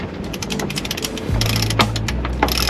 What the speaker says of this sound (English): Go ahead and winch it just a little bit.